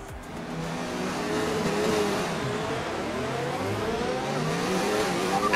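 A pack of F1 race cars in the F1 2019 game pulls away for the formation lap at the Belgian Grand Prix. Many engines drone and rev together in a steady, close roar without pause.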